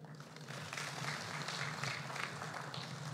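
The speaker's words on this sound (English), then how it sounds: "Another round of applause, ladies and gentlemen." Audience applause at the launch of a national industrial policy, faint and steady, a dense wash of clapping throughout.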